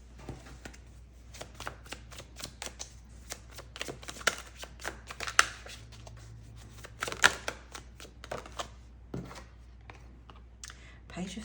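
Tarot cards being shuffled by hand, a close run of quick papery riffles and flicks in irregular bursts, fairly quiet, with no talk over them.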